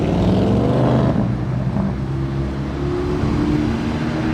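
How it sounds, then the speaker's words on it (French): A red Ferrari passes by near Monaco, its engine note rising and fading as it crosses, loud and continuous for several seconds with no talk over it. "Petit croisement de Ferrari."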